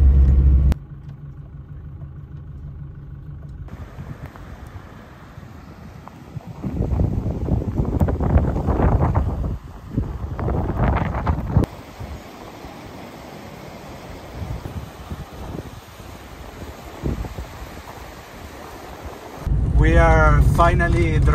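Strong wind blows at Castillos de Pincheira in Argentina, a loud, steady broadband roar buffeting the microphone with gusty surges, likely heard from around a vehicle, with a low rumble underneath.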